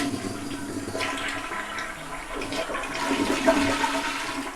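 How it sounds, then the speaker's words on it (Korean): A toilet flushes nearby with a rushing, gurgling surge of water that swells and churns continuously, the bowl draining noisily, at a tank being fixed for endless refilling. "우선 물을 내려주고요"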